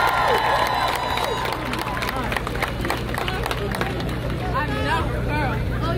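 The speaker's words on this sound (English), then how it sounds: "Make some noise, round of applause to everybody that spoke before me." An outdoor crowd at a Black Lives Matter weekend rally cheers and applauds with scattered clapping and a babble of voices, a dense, continuous roar mixed with shouting, loud and close.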